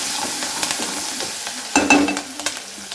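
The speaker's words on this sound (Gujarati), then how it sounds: "સારી રીતે મિક્સ કરી દઈશું।" Asafoetida, garlic paste and chopped chillies sizzle in hot oil in a pan while a spoon stirs them, a steady hiss broken by a few sharper scraping clinks partway through.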